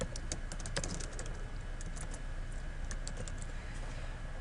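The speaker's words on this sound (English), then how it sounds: "we're going to go back here and type in food issues" Rapid clicking keystrokes on a computer keyboard come in an uneven run, close and clear over a low room hum.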